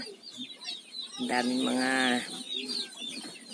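Chickens and chicks in a coop give soft clucks and chirps, and one hen lets out a drawn-out, rising call in the middle. A person talks quietly over them.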